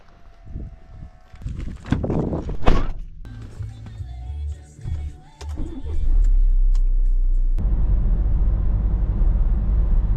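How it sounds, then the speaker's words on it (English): A van on the road: a few hollow thunks and knocks open the scene, then a steady, loud low engine drone and road rumble takes over for the last few seconds. "We're in the van heading up the road."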